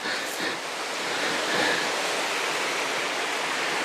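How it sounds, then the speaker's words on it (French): River water rushing through the Chalaux valley, a loud broad steady roar of flowing water close by, continuous for the whole stretch. "le bruit de l'eau s'est un peu calmé quand même."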